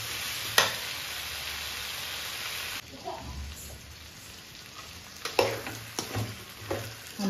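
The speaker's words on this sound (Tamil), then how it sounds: "நம்ம சேர்த்த கத்திரிக்காய் வந்துட்டு நல்லா வந்துட்டு வதங்கி வரட்டும்" Brinjal sautés in oil for an ennai kathirikkai kuzhambu, giving a steady hiss that drops quieter partway through, broken by a few sharp knocks and spoon scrapes against the pan.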